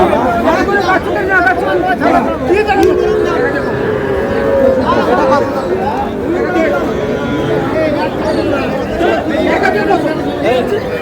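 Small young bull calves at a crowded Noakhali cattle market, faint moos and animal sounds mixed into a dense babble of people talking and haggling nearby.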